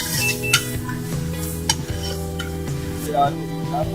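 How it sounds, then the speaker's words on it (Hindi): Chopped onion frying in melted butter in a pan, a steady soft sizzle under occasional stirring scrapes and light clinks of a utensil against the cookware. "प्याज इसमें ऐड कर दिए मक्खन के अंदर। अब इसको फ्राई कर रहे हैं।"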